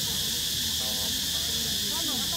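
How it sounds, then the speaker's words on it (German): Cicadas at a flower and orchid festival in Chantaburi, Thailand, buzz loudly in a steady, dense, unbroken drone, with faint background voices underneath. "Und die Zikade machen ganz schön Krach."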